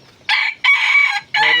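A rooster crows loudly and close by in three bursts, the long middle call drawn out between two shorter ones.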